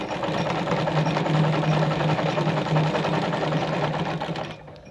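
A Singer sewing machine (models 306K, 319K or 306M) stitches a buttonhole with a fast, even mechanical whir and rhythmic needle chatter, then winds down and stops just before the end.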